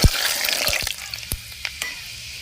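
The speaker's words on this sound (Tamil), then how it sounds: "எண்ணெய் சூடாயிருச்சுங்க. வெந்தயம் போட்டுக்கிறோம்." Fenugreek seeds drop into hot oil in a pan for onion kara kuzhambu, crackling and sizzling briefly with a few sharp pops and clicks.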